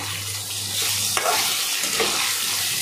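Potatoes with a little turmeric sizzle and crackle steadily in a hot pan, with a few scraping stirs partway through and no talking.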